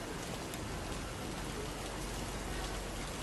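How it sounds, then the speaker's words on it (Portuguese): Steady rain falling, a dense even hiss of drops on surfaces that continues unbroken, moderately soft, with no voices. "Eu acho que não vou aguentar esperar essa chuva."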